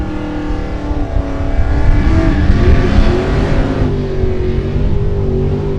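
A Mopar 318 cubic inch drag car engine revs at a drag strip, a loud rough roar that climbs in pitch and holds steady, close by, with no talk over it.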